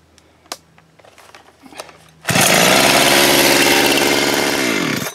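A gas chainsaw with an untuned carburetor that struggles to start, with quiet knocks and handling sounds before the engine catches and then runs loud and steady, close by, with a slight wavering drop near the end.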